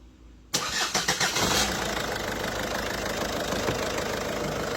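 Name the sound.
1.6 HDi 16v diesel car engine being started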